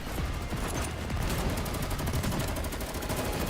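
Rapid automatic gunfire from the Girls' Frontline 2 video game rattles continuously, close and loud, as a dense burst of shots with no pauses and no talk.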